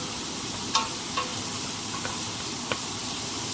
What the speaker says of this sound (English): and we're gonna saute it